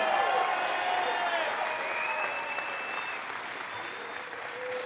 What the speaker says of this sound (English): Give the Vance team a round of applause.